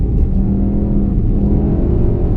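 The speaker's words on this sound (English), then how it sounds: "You can be really aggressive with the throttle and it digs out without much discernible push." A VW Golf R under hard throttle on a figure-eight track makes a loud, continuous engine drone and deep rumble, close and steady throughout with no talk.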